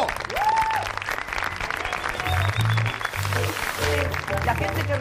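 A studio audience at a TV game show claps loudly and continuously to welcome a contestant. The applause keeps a dense steady roar while a host's voice and short musical tones sound over it.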